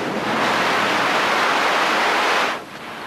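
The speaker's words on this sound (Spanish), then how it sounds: "¡Es el agua!" Loud, steady rush of surging water like breaking waves, filling the scene for about two and a half seconds before dropping off sharply to a quieter hiss.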